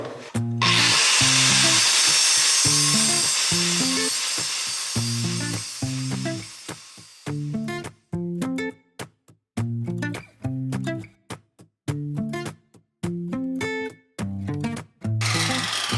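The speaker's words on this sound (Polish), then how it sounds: "A teraz bierzemy się za tą sztywną siatkę, tniemy ją na potrzebne fragmenty" A power tool cuts rigid wire mesh into pieces on a farm: loud, harsh continuous grinding for several seconds, then a run of short repeated cutting bursts separated by brief pauses.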